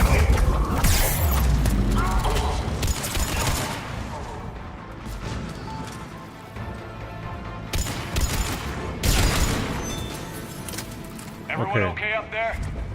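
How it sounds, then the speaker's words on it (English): Turret fire in a Mass Effect 3 combat scene: repeated loud bursts of shots and impacts with mechanical clatter, rising and falling over the battle while voices talk throughout. "Oh look, another turret."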